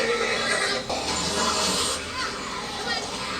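A horse whinnies during a tense scene from Fear the Walking Dead season 5, episode 16, "End of the Line". It is mixed with excited voices talking over the show audio throughout.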